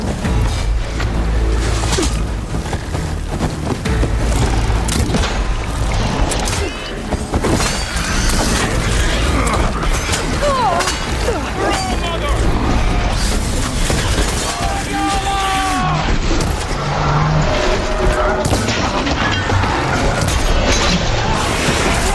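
Fight with a robotic machine creature in Horizon Forbidden West, with a dense, loud mix of metallic clanks, crashes, booms and mechanical whirs running without letup throughout.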